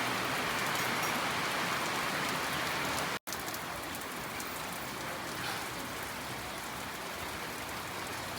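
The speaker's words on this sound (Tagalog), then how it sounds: "Umuulan na." Steady rain pours outdoors at Caliraya, a dense continuous hiss of drops on surfaces that fills the whole stretch, with one split-second dropout near the start and no voices.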